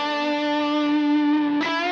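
Electric guitar played through a Kemper profiler with a digital delay set to imitate a space echo, sustaining one bright distorted chord with audible repeats, then a fresh strum near the end; loud and alone.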